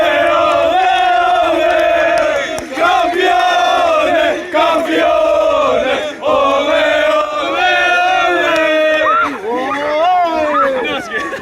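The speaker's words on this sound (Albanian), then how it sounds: "Padyshim festa po vazhdon" A loud crowd of football club supporters celebrates a title success with continuous chanting, shouting and cheering that fills the whole stretch. Massed voices rise and fall in waves, and no single speaker stands out.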